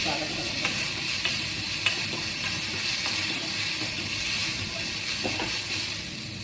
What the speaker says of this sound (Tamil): இது கொஞ்சம் நேரி வதக்கணும்.